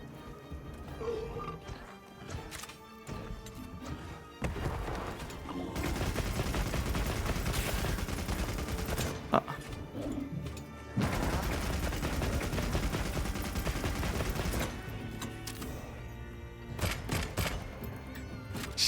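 Rapid bursts of video-game gunfire come in long, dense volleys of shots that run through most of the stretch and are loud and continuous, with brief pauses between the bursts.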